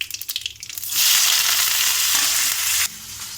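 Mustard seeds, cumin and onions dropped into hot oil for a bendakaya fry, with a loud, steady sizzle that surges after a second of crackling and continues at close range, easing slightly near the end.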